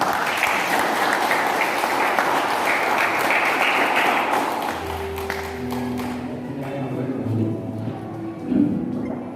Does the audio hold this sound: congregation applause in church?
yes